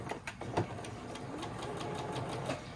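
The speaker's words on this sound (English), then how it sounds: "I'm gonna sew these. Sew over the middle, and take it to the middle and turn it a little bit." A sewing machine runs in a steady mechanical rattle while it stitches across a fabric strap, turning at the middle. It stays close and fairly quiet, with soft clicks and knocks over the continuous drone, and no talk.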